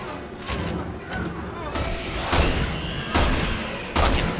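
Gunfire in the Resident Evil 6 video game, several heavy booming shots over a dense, noisy game soundscape with voices mixed in.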